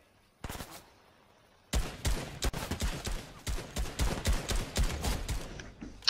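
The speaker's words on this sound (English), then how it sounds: "now I'll kill you with the AK" Automatic AK rifle fire in a video game, a short burst followed by a longer string of rapid, punchy shots in uneven clusters, close and loud.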